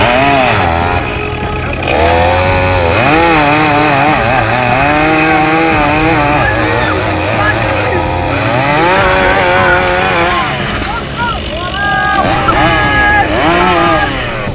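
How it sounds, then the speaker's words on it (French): A chainsaw cuts a tree with a loud, close engine snarl whose pitch rises and falls in repeated revving sweeps, running almost continuously with brief dips. "Avec une tronçonneuse."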